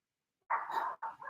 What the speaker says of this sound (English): Cleo, I know they're barking, but don't add to it.